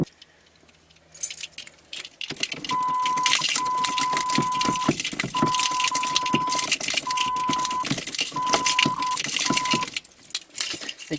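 A bunch of keys jangles and rattles continuously for several seconds near the ignition of a 1983 Pontiac Firebird, close and clear, with a repeating chime beeping underneath.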